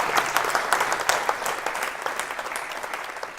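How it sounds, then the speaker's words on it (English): Audience applause after a talk on data science ethics: steady, dense clapping from a crowd that holds at a fairly even level for a few seconds, with no voices over it. "So big round of applause, please."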